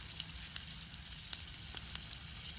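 Quiet, steady frying sizzle with occasional small pops and crackles scattered throughout, no voices, outdoors on Darwen Moors, Lancashire.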